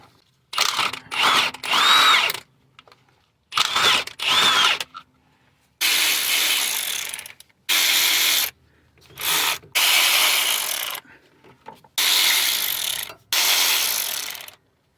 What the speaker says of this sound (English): So let's take out the 13mm bolt first.